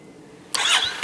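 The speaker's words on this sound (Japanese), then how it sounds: "エンジン始動のね音から心地いい" A Honda GB350 single-cylinder motorcycle engine cranks and catches abruptly, firing up with a sharp burst before settling into a rough idle, close and loud.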